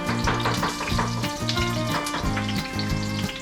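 Minced ginger, minced garlic and sliced onion sizzle in a hot pan as the base of a sweet and sour sauce; steady loud frying with a rhythmic musical backing running underneath.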